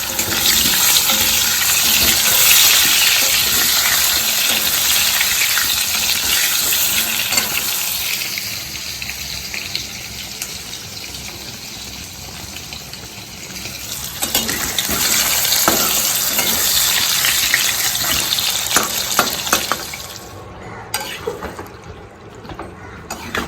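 A loud, steady sizzle of potatoes frying in a pan, easing down midway before flaring up again with scraping clinks.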